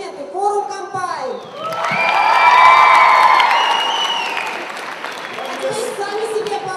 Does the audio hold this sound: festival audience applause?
yes